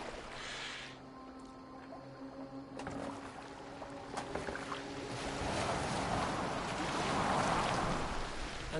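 A boat moves across the water in Assassin's Creed Valhalla, a steady wash of waves and hull noise that swells louder toward the end, with faint music tones beneath and no speech.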